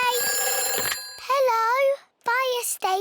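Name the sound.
cartoon fire station telephone ringing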